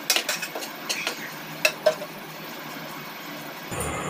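A spoon stirs kachori filling with grated ginger in a pan, giving several light scraping clinks of cutlery against metal at the start, then quieter scraping that fades to near silence.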